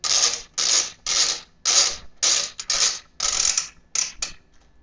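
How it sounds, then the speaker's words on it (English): Screws being tightened into a home office computer during assembly, giving a run of about ten short ratcheting bursts of screwdriver clicking, close and fairly loud, separated by brief pauses. "we're going to tighten these screws down. Snug, but not too tight like always."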